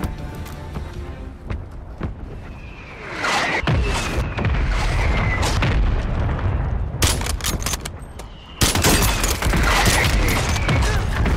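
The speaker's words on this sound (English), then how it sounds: "Friendly mortar strike inbound." Friendly mortar strikes land in the Call of Duty video game as a dense run of booming explosions and gunfire, loud and continuous, with heavier blasts toward the middle and end.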